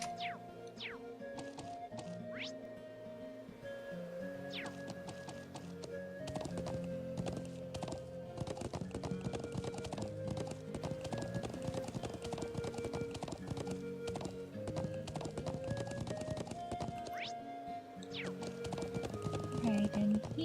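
Horse hooves clip-clop in a Trails of Cold Steel game scene, a steady rhythmic trot over music and game effects, with a person talking over it at times.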